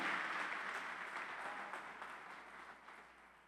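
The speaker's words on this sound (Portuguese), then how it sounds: "Aplauda ao Senhor, aleluia." A church congregation applauds during a worship broadcast, a dense wash of many hands clapping at once that slowly fades, heard faintly and at a distance.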